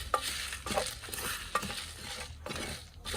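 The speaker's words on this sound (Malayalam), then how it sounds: "ഇനി ഒന്ന് നന്നായിട്ട് ഇളക്കുക" Garam masala and pepper powder being dry-roasted and stirred in a pan, giving repeated scraping strokes over a steady hiss, close and fairly quiet.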